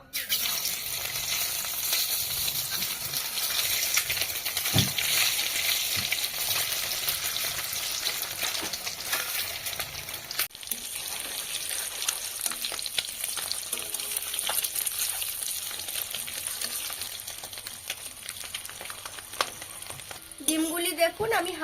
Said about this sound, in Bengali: এবার আমি ডিমগুলি ভেজে নেবো